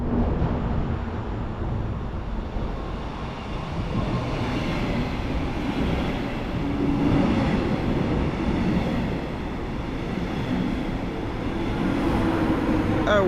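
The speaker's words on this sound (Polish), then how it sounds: "Jako pierwszy przeleci pociąg słoneczny z Warszawy Zachodniej do Ustki." Passenger train to Ustka passing through Warszawa Toruńska station, a steady rolling rumble with faint rail clatter that swells and eases slightly over about thirteen seconds.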